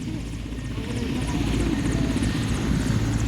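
A helicopter flying overhead gives a steady, continuous rotor and engine drone that stays fairly loud and even across the whole stretch, with no talk over it.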